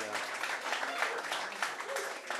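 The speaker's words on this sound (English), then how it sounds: "please, round of applause for the panelists." Audience applause for the panelists at the close of a live discussion event on millennials, Gen Z and American conservatism: steady, dense clapping from a seated crowd, fairly distant and moderate in level, sustained throughout.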